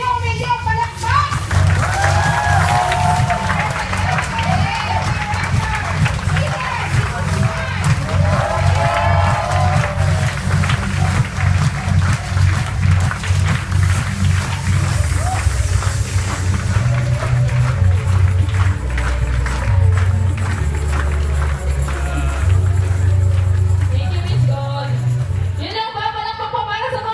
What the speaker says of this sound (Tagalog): At milyon palakpak!